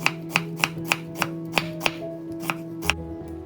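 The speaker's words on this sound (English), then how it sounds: "we need some white part of the green onion, chopped green onion, chopped cilantro, and of course, some slices of white onion." Green onion, cilantro and white onion being chopped on a cutting board for Vietnamese spicy beef noodle soup, about ten crisp knife strikes in a steady, even rhythm, close and clear, with no talking.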